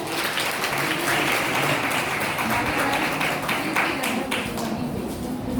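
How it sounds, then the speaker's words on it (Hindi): A crowd applauds continuously at a Hindi Diwas college poetry and debate competition, dense steady clapping filling the room at a constant loudness throughout. "आप सब जोरदार तालियां बजाएं"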